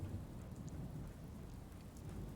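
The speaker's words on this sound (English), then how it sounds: "I think this may be the first time we're seeing the True Storms mod kicking in. Either that or it's just regular old rain." Rain falls through a storm in the game Fallout 4 with the True Storms mod, a soft continuous hiss of rainfall over low thunder rumble, with no voices.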